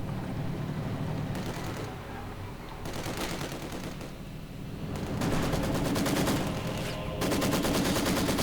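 Maxim machine gun fire in a video game: several long, rapid bursts of rattling automatic fire, loud and close, separated by brief pauses over a steady battle rumble.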